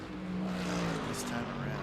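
A GT3 race car at Mosport enters pit lane in a sim race, its engine a steady droning whine held close, with a commentator talking over it.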